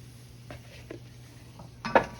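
Flour is worked into oil in a pan with a utensil, giving soft scraping strokes and a few light clinks against the pan, ending with a sharper metallic scrape, all fairly quiet and close with no talk.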